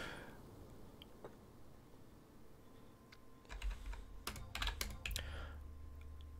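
Keys clatter on a computer keyboard in quick bursts of typing, faint at first and then busier and closer, with a low hum behind.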